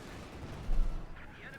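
A brief machine gun burst in Company of Heroes 2, during an OKW versus USF match, rattles low and muffled under a commentator's voice amid the battlefield din.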